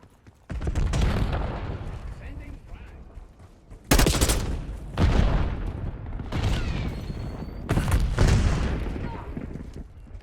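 Repeated loud booming blasts and gunfire from a Call of Duty: Black Ops 6 multiplayer match as a frag grenade goes off, with several sharp broadband bursts and rumbling tails over about ten seconds under faint game voices.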